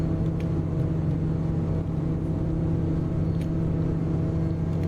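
A Dodge Viper engine roars at high RPM as the car accelerates, a loud, steady, sustained drone that barely changes pitch, with no voices.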